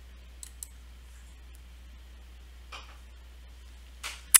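Mouse clicks on an add records button in attendance software, a few soft isolated clicks scattered through a quiet room tone, with a sharper click near the end.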